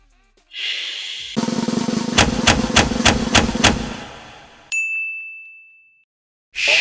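A run of bright notification bell dings rings out in quick succession over a dense, busy background mix, then a single sustained tone holds before fading into silence.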